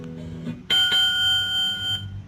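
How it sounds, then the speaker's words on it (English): An electronic bell on a touring bicycle set up for a cross-country TransAmerica ride sounds a bright, sustained synthetic chime, loud and close, after a brief lower tone. "And it actually has an electronic bell."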